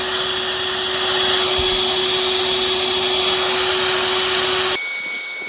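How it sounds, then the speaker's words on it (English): A bee vacuum runs at the front of a beehive, sucking bearding honeybees off the entrance, a loud steady motor whine and airflow roar that holds constant, then abruptly shifts to a thinner, slightly quieter tone near the end. "So we're fixing to get the vac going. We're going to suck all these off the front,"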